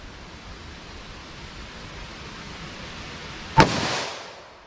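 A single sharp gunshot from a .327 Federal Magnum revolver firing a 100-grain Speer Gold Dot bullet cracks out over steady background hiss, with a short decaying tail after the report.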